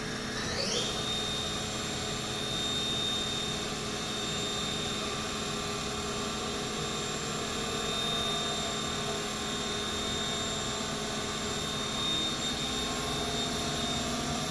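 A 2000 Haas VF-2 CNC mill with a 10,000 RPM geared spindle runs at 5,000 RPM in high gear, giving a steady, close, high-pitched mechanical whine with a sharp tone that rises at the start and then holds with no talking.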